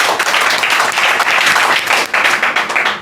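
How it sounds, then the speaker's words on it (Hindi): Students in a classroom break into loud, lively applause for a classmate, the clapping dense and close, swelling and dipping slightly before tapering off at the end. "ताली बजा दीजिए"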